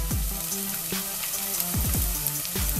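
Onion sizzles gently while being sautéed in a pan, a steady frying hiss broken by light stirring and scraping sounds.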